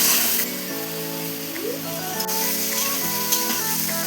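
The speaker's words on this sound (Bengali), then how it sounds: "এবার আমি বাটনাটা দিয়ে দেবো এবার যতক্ষণ না তেল ছাড়ে বাটনাটা এইভাবে কষে নিতে হবে ভালো করে" Spice paste for a katla fish and potato curry fries in hot oil, making a continuous close sizzle with occasional stirring scrapes and no talk over it.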